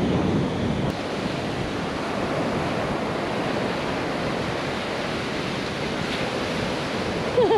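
Surf washes steadily onto a Carolina coast beach, with wind buffeting the microphone in a constant broadband roar that holds for the whole stretch, no voices heard.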